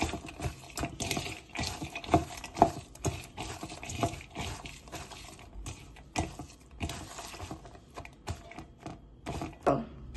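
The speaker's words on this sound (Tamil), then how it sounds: "போட்டுட்டு இப்ப நாங்கள் இதை மிக்ஸ் பண்ணுவோம்." Snake gourd sambal being mixed with salt in a bowl, giving a steady run of soft, moist scraping and stirring noises with small irregular clicks, close and fairly quiet with no talking.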